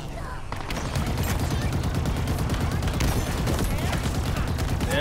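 Dense gunfire in the video game Halo Infinite during the Pelican Down mission, rapid continuous shots and explosions that fill the whole stretch, with voices talking underneath.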